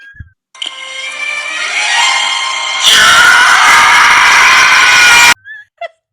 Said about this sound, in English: This is called a Howie scream.